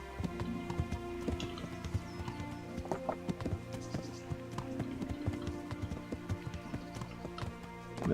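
Horse hooves clip-clopping at a steady gallop in the medieval video game Kingdom Come: Deliverance, rapid rhythmic thuds close by over a low game soundscape, with no talking.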